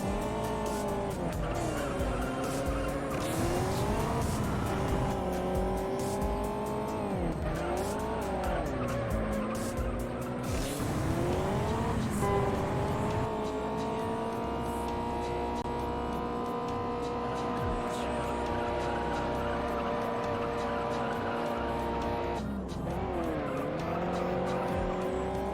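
Race car engine revving and shifting through gears in the video game Juiced, with repeated tire squeals and skids, loud and continuous throughout and up close, with no talking.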